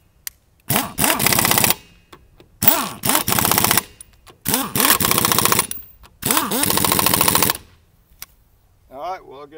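An air impact wrench powered by a modified Harbor Freight 5-gallon air tank hammers lug nuts in four loud, rattling bursts of about a second each, separated by short silences, with a brief voice at the end.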